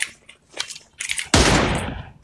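Gunfire in a PUBG-style mobile shooter, with a few faint clicks and short bursts, then one loud, close, sustained blast that rings out and decays over the last second.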